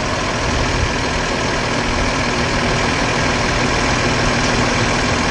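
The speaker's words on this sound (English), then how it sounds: "your engine has to be running at low idle" A coach bus engine runs at low idle, a loud steady diesel rumble with a constant low drone and no change in speed throughout, heard close with no voices.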